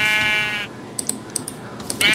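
Sheep in Minecraft bleat in a long wavering call up front, then a steady patter of keyboard typing clicks, and another bleat begins right at the end.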